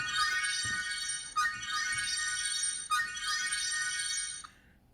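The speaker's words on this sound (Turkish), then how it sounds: "Şöyle bir ses geliyor telefondan arkadaşlar." A phone plays a bright repeating alert tone, set off through a smartwatch's find-phone feature, in three looping bursts before it cuts off near the end.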